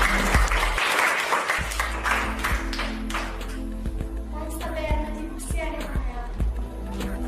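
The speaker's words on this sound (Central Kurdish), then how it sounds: "ئافرین کەواتە هەمووتان تێگەیشتن چەپڵەیەک بۆ خۆتان لێدەن" Children in a classroom break into applause, a burst of scattered, close hand claps that thins into individual taps and claps over several seconds, with a few voices mixed in.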